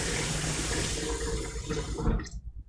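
Water poured into a pot or pan while cooking French toast in a home kitchen, a loud, steady rushing stream up close that thins and stops near the end, with no talking.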